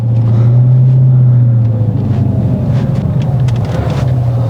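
A Dodge Charger Scat Pack with 170,000 miles accelerating, a loud, deep engine drone from close by that holds strong and steady, then eases slightly as it goes on.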